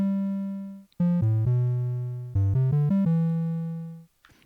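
A run of synthesized Woovebox tones with rich harmonics, each ending cleanly with a short release fade instead of a hard cutoff. They play alone, at a steady volume.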